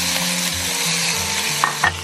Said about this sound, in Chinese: 把煎好的豆腐倒进去。